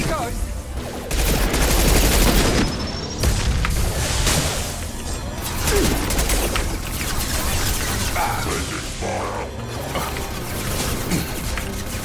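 Turret gunfire in the Mass Effect 2 video game, sustained rapid bursts of shots with booming impacts, loud and close, continuing across the span with a few distinct sharper hits.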